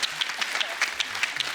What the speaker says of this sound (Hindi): परेश रावल जी के लिए जोरदार ताली हो जाए।